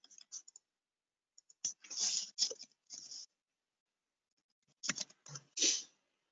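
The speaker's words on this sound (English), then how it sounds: "if you can hear me typing away, I'm trying to get that link for all of you." Computer keyboard typing during a live online webinar, heard as quiet, irregular bursts of key clicks with pauses between runs, close to the microphone, with no talking.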